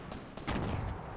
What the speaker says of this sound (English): Keep shooting it, keep shooting it.